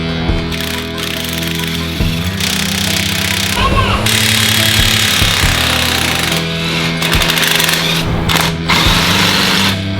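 An air hammer is breaking rivets on a truck. The rapid pneumatic hammering is loud and close and runs almost continuously in bursts, with short pauses, and a voice talks underneath.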